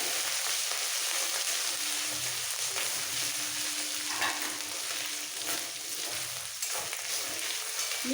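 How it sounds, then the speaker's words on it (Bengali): Grated ginger and garlic sizzle in hot oil in a pan for chilli paneer, a steady close frying hiss broken by light stirring scrapes and small pops, with no voices. "একটু রসুন আর আদা একটু মিক্স করে নিতে হবে তেলের মধ্যে"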